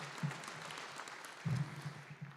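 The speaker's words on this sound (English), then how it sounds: "Let's give them a round of applause." Audience at a Riverland Energy annual meeting claps in a faint, distant patter with a couple of slightly louder bursts.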